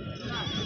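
A goat bleats briefly at a bustling livestock market in Sahiwal, a wavering cry heard close by and mixed with people talking.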